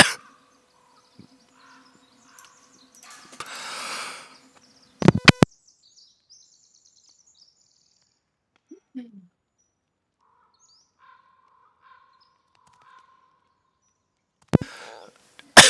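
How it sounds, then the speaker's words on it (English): Sparse video game bird calls and chirps over near silence, with a couple of sharp clicks and brief bursts of noise scattered through. "There we go. Some nice birds."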